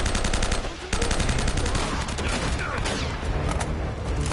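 Enemy gunfire in the video game Uncharted: Drake's Fortune, loud sustained automatic bursts with rapid repeated shots and a brief pause, dense and close throughout.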